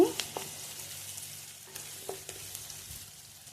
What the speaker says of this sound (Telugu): పోపుని ఎర్రగా వేయించుకోవాలి.